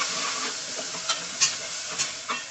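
Tomatoes and onions frying in a pressure cooker, a steady bright sizzle with soft spoon scrapes and small pops, continuous and close, no talking.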